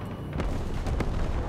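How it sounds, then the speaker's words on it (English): Bombs dropping and detonating in the multiplayer war game Broken Arrow: a steady low rumble with a few sharp blasts, heavy and continuous, with no talk. "Just drop the bombs. Bombs away."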